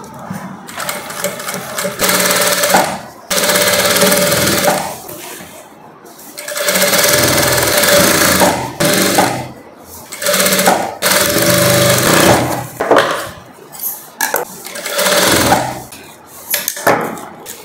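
A close, loud sewing machine stitches the folded hem of a long gown in several runs of rapid mechanical chatter, separated by short pauses, with speech heard between runs.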